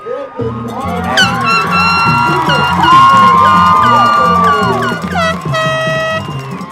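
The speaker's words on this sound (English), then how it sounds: "Gotta love the air horn at football games." Loud high school football stadium crowd roaring and cheering, with air horn blasts and whistles sounding repeatedly over the din.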